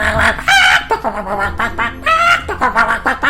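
A cartoon voice imitates a chicken clucking, a few loud, pitched squawking bursts in a quick irregular run.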